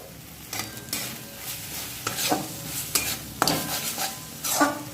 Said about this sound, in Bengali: এবার এটাকে ভালো করে আর একটু নাড়ি